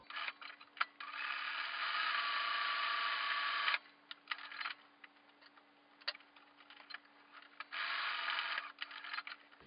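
A sewing machine runs off-black thread down the middle of a fox art quilt during thread painting. The whirring stitching comes in long steady bursts with short clicking pauses between them, close and fairly quiet over a faint constant hum.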